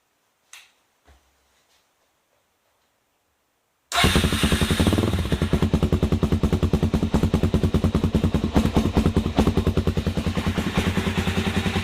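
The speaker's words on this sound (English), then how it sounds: "let's get the bike fired up here real quick" After a few faint clicks and near silence, a Suzuki DRZ400s motorcycle engine starts abruptly and settles into a loud, close, rapid thumping idle that continues steadily to the end.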